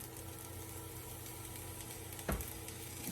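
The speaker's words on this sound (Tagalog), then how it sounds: "Maglalagay ulit ako ng soy sauce para lang may kulay itong ano ko." Soy sauce hits fried rice in a hot pan, giving a steady, fairly quiet sizzle with one brief louder crackling burst partway through.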